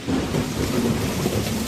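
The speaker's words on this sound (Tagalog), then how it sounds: "Napakalakas naman ng ulan na ito." Heavy downpour pours steadily as a dense, broadband hiss with a low rumble underneath, continuous and close throughout, with no voices.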